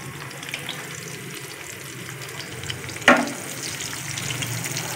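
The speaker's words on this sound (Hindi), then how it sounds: "मैंने ऑयल डाला और मैंने आधी प्याज डाली है" Onions sizzle steadily in hot oil, a soft continuous crackle with one brief clatter partway through, as half an onion is fried toward brown.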